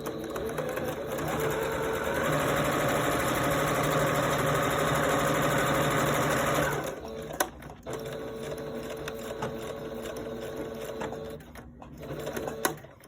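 Sewing machine stitching a fabric face mask runs steadily for about seven seconds with a dense mechanical whir, then stops, leaving quieter handling and brief machine sounds.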